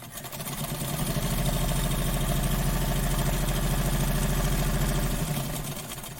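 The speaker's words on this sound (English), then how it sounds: "And this machine sews very well, very good. But it's not as fast as the Juki." A sewing machine runs in one steady buzzing burst that builds at the start, holds an even mechanical drone and then winds down, loud and close with no talking.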